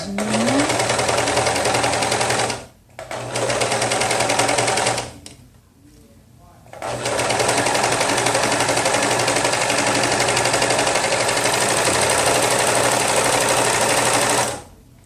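Overlock sewing machine stitching a T-shirt seam, a loud, fast, even whirring hum in three bursts with brief pauses between them, and no talk over it.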